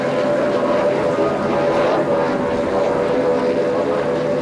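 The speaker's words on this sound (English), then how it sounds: "This is an outboard-powered V-bottom, one of the older boats in the fleet" An older outboard-powered V-bottom offshore powerboat races along a bumpy shoreline, its engines giving a continuous loud, buzzing drone with a steady tone throughout, heard from a distance over wind and water.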